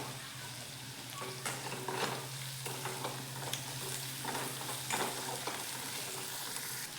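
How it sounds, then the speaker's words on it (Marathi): Spice masala stir-fried in a pan for an egg bhaji, with a soft, continuous sizzle broken by scattered scrapes and clinks of the spatula against the pan. "मसाले एक मी अर्धा मिनिट परतलाय"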